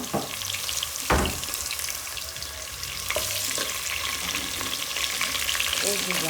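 A large onion dropped into hot oil in a pot for a beef stew, a loud steady sizzle with a few stirring knocks and scrapes, no talk.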